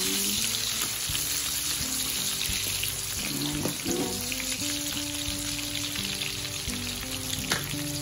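Onion sizzles and crackles steadily in a hot pan while being stirred for a bamboo shoot dish with coconut milk, with a continuous close frying hiss, occasional scraping stirs and faint clinks, and no talk.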